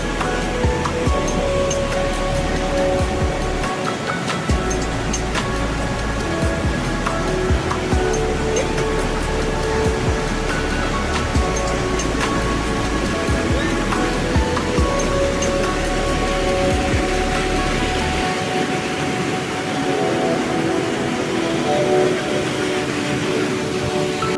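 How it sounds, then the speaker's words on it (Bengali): Khanda waterfall in North Sikkim, with icy, milk-white water on the road to Katao, roars close by as a loud, continuous rush of crashing water with a deep rumble underneath and no voices. "আর এই ওয়াটারফলটার নাম হচ্ছে খান্ডা ওয়াটারফল।"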